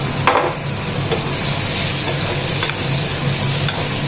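Spices sauté in a pan for a South Indian cabbage dish, giving a continuous close sizzle with a few light scrapes of stirring. Nobody speaks.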